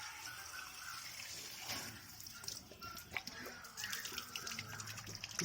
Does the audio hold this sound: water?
yes